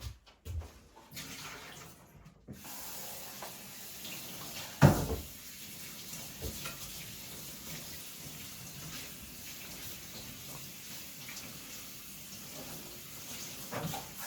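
Clean water runs from a tap at a pottery session, a soft continuous splashing flow with a brief louder splash near the middle, under a quiet room hum.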